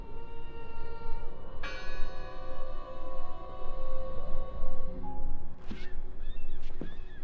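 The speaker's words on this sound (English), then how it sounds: "Listen! The bell! They're still in there!" A church bell tolls in the 1920s Norway setting of the video game Draugen, a resonant ringing strike that sustains and fades, followed by wind and faint creaking and bird-like calls in the eerie ambience.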